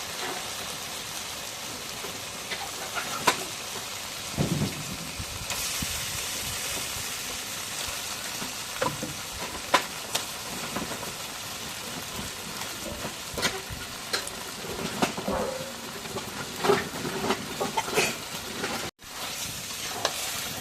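Fish sizzles steadily in spice paste in a pan on a clay stove outdoors in a village kitchen, a constant close crackle broken by a few louder spatters and stirring scrapes.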